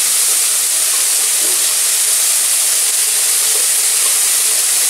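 Arum (taro) flowers dropped into a hot pan of oil give a loud, steady, close-up sizzle, a continuous hiss without pauses.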